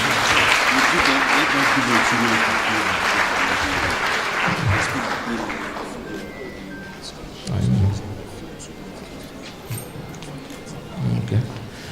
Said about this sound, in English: Please, a better clap for the graduates.